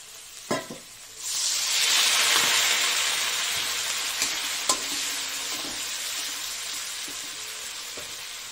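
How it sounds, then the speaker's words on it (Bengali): Ground spice paste sautéing in a pan, starting with a couple of clinks, then a loud, steady hissing sizzle with occasional spoon knocks. "একটু মশলাটা কষিয়ে নিই।"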